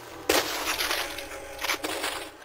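Glass breaks with a sharp crash, followed by bright tinkling and crunching debris, then a second smaller crash near the end.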